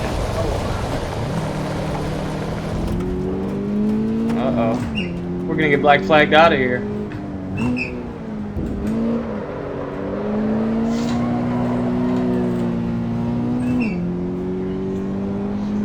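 A Toyota GR86 race car engine in the Assetto Corsa EVO racing game hums and revs through gear changes, with brief bursts and tire noise, while someone talks over it throughout.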